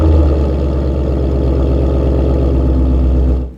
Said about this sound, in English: That sounds good at idle, very similar Roush sound.